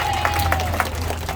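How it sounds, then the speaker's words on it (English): Children and a crowd at a canal festival applaud after setting their pipes on the ground, a dense, steady wash of clapping that stays loud and close for its whole short length, with voices mixed faintly underneath. "give yourselves a big round of applause"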